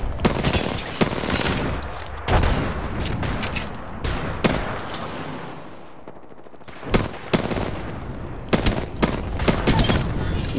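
A frag grenade bursts amid rapid gunfire in a shooter game: loud, close cracks and volleys in uneven bursts, with a brief lull partway through.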